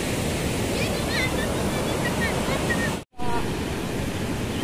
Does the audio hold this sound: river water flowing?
yes